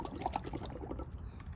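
Air blown through a straw into a cup of water, giving a soft, steady bubbling and gurgling with a few brighter pops near the start.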